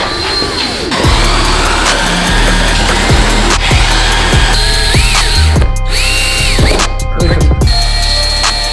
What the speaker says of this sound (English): so we're gonna get our drill bit set up.